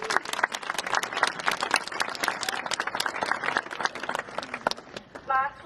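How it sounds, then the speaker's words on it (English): A graduation audience at a high school ceremony claps steadily in a sustained round of applause, moderately distant, with a voice briefly heard at the end. "Please give yourselves a round of applause."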